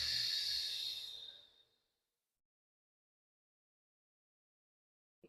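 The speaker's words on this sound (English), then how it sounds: "And exhale." A long, deep breath out during restorative yoga in supported fish pose. One breathy, hissing exhale fades over about two seconds, then quiet follows.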